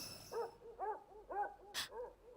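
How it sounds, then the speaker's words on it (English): A dog barks in a run of about five short, faint woofs at a steady pace, sounding indoors and somewhat distant, with a brief sharp noise between them. "My dog barking, yeah."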